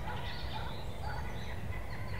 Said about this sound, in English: A lot of birds out today.